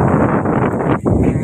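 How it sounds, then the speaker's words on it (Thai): Strong wind buffets the microphone outdoors in a loud, brief, unbroken rush with slight gusting. "ลมแรงมากนะ"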